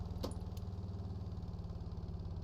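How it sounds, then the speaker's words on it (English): Vehicle engine idling in the video game Stormworks, a steady low rumbling drone with an even rhythmic pulse throughout, with a brief faint clink near the start. "Turn the engine off."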